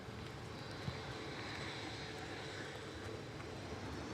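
A Boeing 737-800 jet airliner departs Manchester Airport, a steady, moderately distant engine roar holding evenly throughout with no talk over it.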